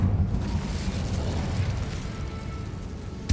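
The Incendio fire spell cast in the Hogwarts Legacy video game, a steady low rumbling whoosh of flame lasting a few seconds, ending in a short burst.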